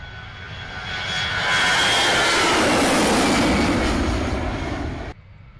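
Airbus A318 jet engines, comparing IAE and Safran powerplants, roar loudly and steadily as a broad continuous rumble with a rising whine, building over the first seconds and cutting off abruptly near the end.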